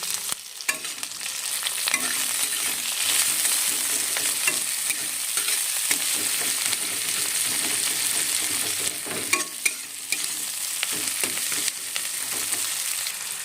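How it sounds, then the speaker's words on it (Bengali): Chopped onion, garlic and green chilli fry in hot oil, producing a continuous close sizzle with frequent clicks and scrapes from stirring, and no voices. "এবারে দিচ্ছি রসুন কুচি আর দিলাম কাঁচা লঙ্কা কুচি"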